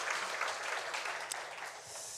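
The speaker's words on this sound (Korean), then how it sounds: "우리 하나님께 영광의 박수 올려드리겠습니다." A church congregation applauds during a Sunday worship service, a steady wash of clapping from many hands filling the hall for about two seconds.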